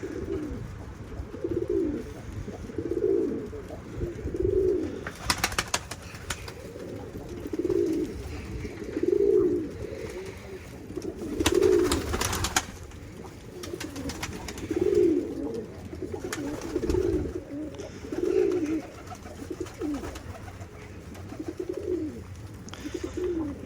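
Pigeons coo in a coop in a steady series of soft, throaty calls, repeating every second or so, with occasional rustling and scraping sounds nearby.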